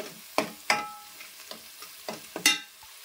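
Masala fries in a pan as a spoon stirs it in sharp, uneven scrapes and knocks over a low sizzle. The sound is close and moderately quiet, with no talking.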